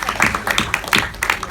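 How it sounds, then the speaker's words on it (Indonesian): Audience clapping at an Indonesian film event, a short burst of close, uneven hand claps with a lively, irregular rhythm. "Tepuk tangan dulu dong untuk Tepuk tangan, Mawar, Mawar."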